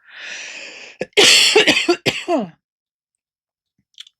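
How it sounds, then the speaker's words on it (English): A breathy inhale leads into a run of harsh, close coughs and throat clearing, then quiet. "I need to cough."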